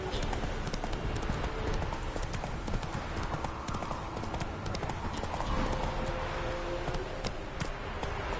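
Geralt's horse Roach gallops in The Witcher game, a steady clatter of hoofbeats at close range with no letup, mixed with faint game ambience and music.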